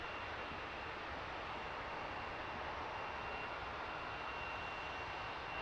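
An airliner taking off from Luton Airport and banking early to the left gives a steady, broad jet engine roar that holds at an even, moderately distant level throughout, with no voices.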